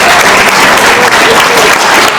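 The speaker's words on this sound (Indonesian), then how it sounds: "Tepuk tangan dong." An audience in a school setting claps loudly and densely, a steady wash of applause that holds at full strength for a couple of seconds.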